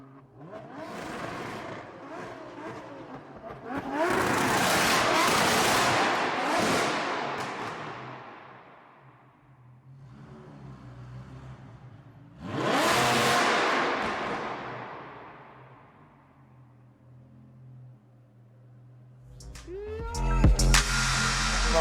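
A Lamborghini supercar revs in two loud, swelling bursts with quieter idling gaps between them, followed by a sharp crackling rev at the end. The sound is heard at moderate distance without talk over it.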